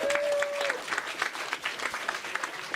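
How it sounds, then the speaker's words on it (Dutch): A small audience at a live show gives Willem Schoorstra a brief, quiet smattering of claps, scattered and fairly distant, with a faint tone at the start. "Even een applaus trouwens nog voor Willem Schoorstra hier."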